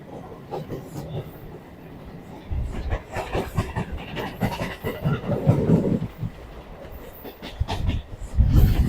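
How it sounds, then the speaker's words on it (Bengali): A Sealdah–Dankuni local electric train runs on the rails with a rumbling, rattling roll and rhythmic clatter that grows louder toward the end, while faint voices are heard inside the carriage. "ট্রেনটা ডানকুনি ঢুকে গেল"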